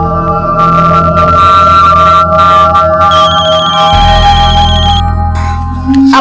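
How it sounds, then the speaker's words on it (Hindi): A mobile phone rings over and over at home during a family mealtime, its loud melodic ringtone playing continuously with layered tones and no talking. "कौन बार बार फोन कर रहा है?"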